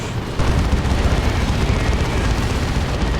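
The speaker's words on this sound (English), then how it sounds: "Now's the time for an assault cannon barrage." An assault cannon barrage in Dawn of War 2 Elite Mod, a loud dense stream of rapid booming fire and explosions that starts abruptly and keeps going without a break.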